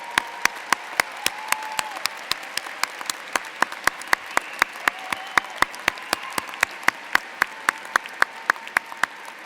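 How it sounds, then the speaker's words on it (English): Sustained applause from a graduation ceremony audience honoring Beta Gamma Sigma inductees at Michigan Ross, dense rhythmic clapping filling the hall with individual sharp claps standing out nearby. "let's give them a big round of applause and recognition as well"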